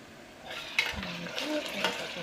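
Onions and ginger garlic paste sizzling in a pressure cooker while a spoon stirs and scrapes the pot, with a couple of metallic clinks, close and moderately loud.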